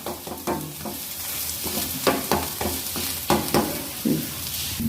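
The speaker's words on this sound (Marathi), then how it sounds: "दोन्ही साईडनं गोल्डन रंगावर भाजून घ्यायचे." Fasting-style thalipeeth flatbread roasting on a hot pan, a continuous close sizzle broken by several sharper crackling bursts, with no talking.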